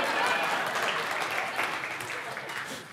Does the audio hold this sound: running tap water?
no